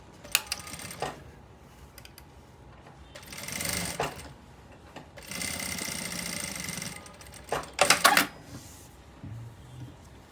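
Sewing machine stitching pleated cups onto a tube blouse, running in several close bursts of rapid mechanical stitching with short quiet pauses between runs.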